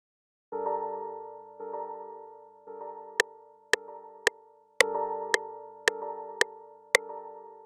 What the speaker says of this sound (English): I'm using the synth keys chord tune